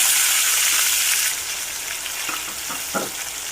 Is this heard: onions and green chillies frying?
yes